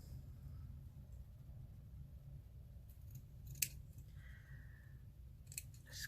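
Scissors snip through paper webbing for craft tags, giving a couple of faint, crisp cuts alone against a quiet room.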